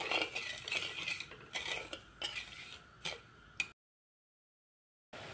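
Sugar being stirred into water in a wok for syrup, with a utensil scraping and clinking against the metal in irregular bursts, followed by a sudden silence and then a brief return of the stirring.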